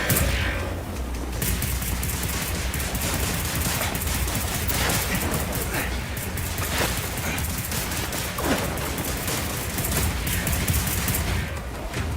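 Sustained machine gun fire from Wolfenstein: The New Order, a dense continuous rattle of gunfire with booming impacts throughout, loud and steady with no clear pauses.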